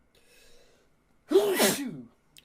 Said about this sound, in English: It's the second time I sneezed in a video.